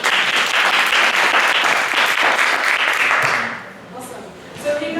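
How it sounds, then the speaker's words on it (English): Lively applause from a seminar audience fills the room for about three seconds, then dies away as a speaker begins talking. "Let's give her a round of applause."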